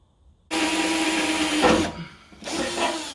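A power drill fitted with new drill bits runs steadily while setting up a blacksmithing shop bench, a loud continuous whine that dips briefly near the end and then resumes, with no talking.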